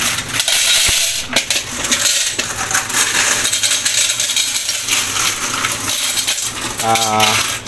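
A heavy pile of coins pours loudly out of a Piso WiFi coin machine at a sari-sari store, a dense continuous metallic clatter and jingle lasting several seconds up close.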